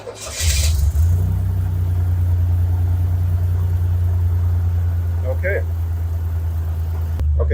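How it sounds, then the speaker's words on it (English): A rebuilt Buick Grand National engine running steadily just after starting, with a low, even idle drone that holds close and loud throughout and a few faint clicks over it. "so we got the engine running now"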